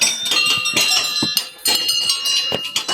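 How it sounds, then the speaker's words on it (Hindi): Bells ringing at the Sem Mukhem temple in Tehri Garhwal, a bright metallic clanging repeated in quick, uneven strikes with lingering high tones, close and fairly loud throughout. "और यहाँ से ये घंटियाँ बजा रहे हैं।"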